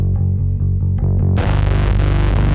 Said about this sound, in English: There's the distortion pedal.